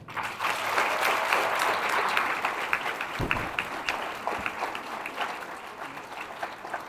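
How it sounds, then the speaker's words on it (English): A roomful of people at a graduation celebration breaks into sustained applause, a broad, loud clapping wash that holds steady and slowly thins out toward the end, with a few sharper claps and thuds standing out. "Everyone in this room deserves a massive round of applause."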